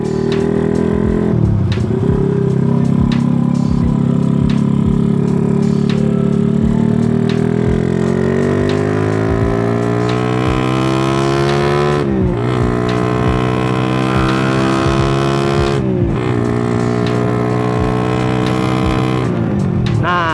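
A bored-up motorcycle engine revs hard and close, the pitch climbing and falling in long sweeps with sharp drops as the throttle is chopped and the clutch worked, loud and continuous for about twenty seconds.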